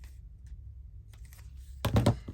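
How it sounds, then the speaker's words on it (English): Scissors snipping through paper while making craft tags and journal cards, a few quiet soft snips followed by a louder, closer cluster of cuts, with no talking. "Oh, this I'm just going to cut with my scissors."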